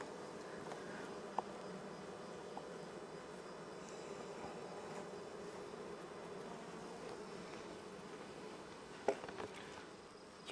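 Honey bees buzz around an open beehive during a late-season hive inspection, a faint, steady drone of many insects close by, with a couple of small clicks and knocks from the hive work.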